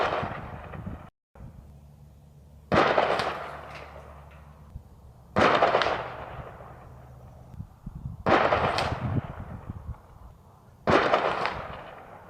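Four loud 12 gauge shotgun slug shots fired outdoors at a target 400 yards away, each a sharp blast with a long rolling echo, spaced about three seconds apart with quiet ambience between.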